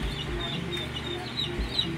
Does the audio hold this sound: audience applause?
no